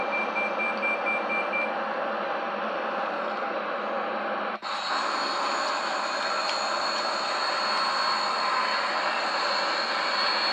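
Simulated Boeing 737-800 airliner landing in the X-Plane flight simulator, a steady loud broadband engine and airflow roar with a brief dropout partway through, continuing with a higher whine afterward.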